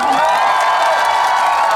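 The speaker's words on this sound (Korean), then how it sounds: "날씨가 더운데도 불구하고 큰 박수 쳐주셔서 진심으로 감사드리고" Large outdoor festival crowd in Daejeon applauding and cheering for a trot singer in hot weather, a loud, continuous wash of cheers, whoops and clapping filling the whole moment.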